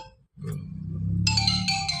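After a low rumbling hum, a bright electronic phone ringtone starts up, chiming in short repeated bursts.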